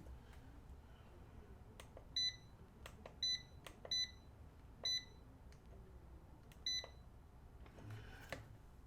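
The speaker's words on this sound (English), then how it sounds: "Right now it's on a hertz. That's what's beeping." An Amprobe clamp meter set to hertz mode gives five short, bright beeps at irregular intervals, heard close up over a faint room hiss with occasional soft handling clicks.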